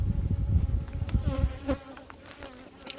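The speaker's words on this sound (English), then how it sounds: "I've got bees flying around my hand" Honey bees buzz around a beekeeper's hand at an open hive, their close, wavering drone rising and falling as individual bees fly past.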